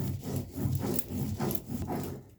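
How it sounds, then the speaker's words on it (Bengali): Grated coconut is ground on a stone grinding slab, the stone rubbing back and forth in close, rhythmic, gritty strokes. "নারকেলটা আমি শিলে বেটে নিচ্ছি"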